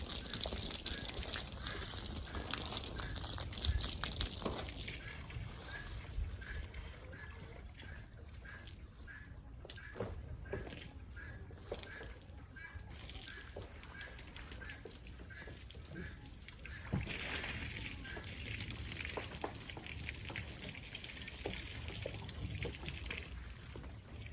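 Liquid is poured into a glass, producing a faint, steady trickle with light drips running through most of the stretch, with no talk.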